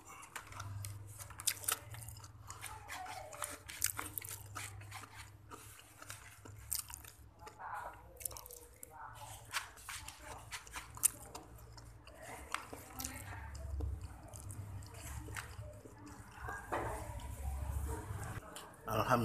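Crunchy bites and chewing of nasi pecel obor, a Jombang rice dish with crisp fried topping, repeating irregularly and close up while someone talks at times.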